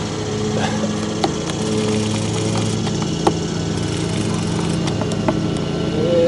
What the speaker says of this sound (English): lawnmower man's over there